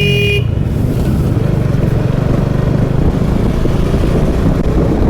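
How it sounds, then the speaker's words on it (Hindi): Heavy highway traffic streams across the Narayangaon bridge in Maharashtra, a loud, continuous roar of cars and motorcycles with a brief horn toot at the very start. "यहाँ पे नारायण गांव पे बहुत तगड़ा ट्रैफिक।"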